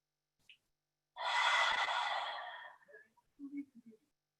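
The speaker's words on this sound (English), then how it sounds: "For 2 more breaths." During a myofascial core breathing exercise, a single long, forceful exhale through the mouth rushes out close up, followed by a few faint, soft breath sounds.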